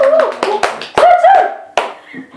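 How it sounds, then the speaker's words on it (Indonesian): A few sharp hand claps ring out during an Indonesian podcast chat, loud and close, scattered among people talking and laughing over them, with the claps irregular rather than a sustained round of applause. "Tepuk tangan dong."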